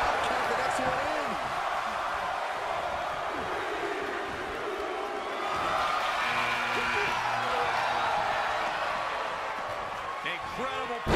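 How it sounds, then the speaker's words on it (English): A virtual arena crowd in the WWE 2K23 wrestling game chants and counts along, a dense roaring murmur with rhythmic swells, under commentary and occasional game impacts. "Listen to this crowd count the next one in."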